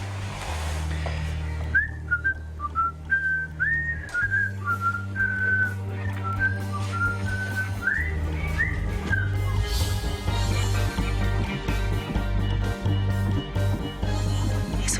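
A person whistles a melodic tune alone, the notes rising and falling in a steady phrase over a low, sustained musical background for most of the passage.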